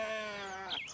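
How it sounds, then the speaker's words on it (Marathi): Goats in a herd penned on a farm field bleat in one close, drawn-out wavering call, with a second higher cry breaking in near the end. "बकरी बसवलेत ह्या शेतकऱ्यांनी"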